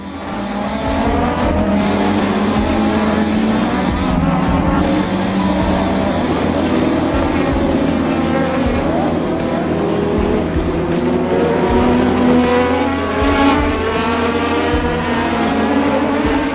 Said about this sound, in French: Piquet mène le premier tour devant Senna, Prost, Rosberg, Mansell, Alboreto, Arnoux et Johansson